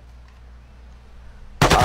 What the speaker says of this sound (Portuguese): Dá um tiro de misericórdia aí, Gastão.